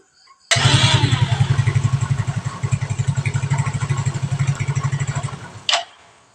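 A motorcycle with an automatic transmission, whose clutch shoes had been roughly sawn and which had been juddering, is started for a test: a sharp catch, then a loud, close, rapidly pulsing idle, ending with a brief throttle blip and shutoff.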